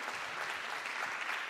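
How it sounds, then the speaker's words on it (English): Steady, dense applause from an audience at a public forum session, honoring the juries, a continuous wash of many hands clapping without pause. "Another round of applause for the juries."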